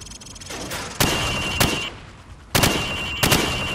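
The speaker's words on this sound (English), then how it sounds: "Now, shoot at the targets while firing from the hip." Rifle fire on a Call of Duty 4: Modern Warfare training range, four loud, sharp shots spaced unevenly about a second apart, each followed by a short ringing decay over a steady background hum.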